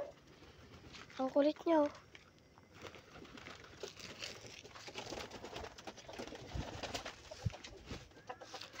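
A grizzle pigeon in a mini loft gives a few short coos early on, close and clear, followed by rustling and shuffling while someone talks softly.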